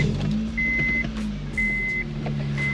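A Honda Civic coupe engine runs steadily at a warm-up idle with a low, even hum, while a high electronic beep repeats in regular intervals over it.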